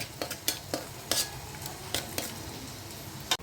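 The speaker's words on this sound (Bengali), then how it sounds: "কাশ্মীরি মরিচের গুঁড়া এবার মশলাটা আমি সুন্দর করে কষাই নেব" Spice paste with Kashmiri chili powder is stir-fried in a pan, soft sizzling under a string of sharp spatula scrapes and taps against the metal at an irregular rhythm.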